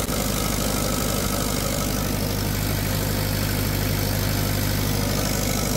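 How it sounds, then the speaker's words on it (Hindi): A Tata 709TC diesel engine driving a 50 kVA generator runs steadily under a load of about 54 amps, with a loud, continuous low rumble and a constant rhythmic throb and no break throughout. "बिल्कुल साफ इंजन चल रहा है दोस्तों"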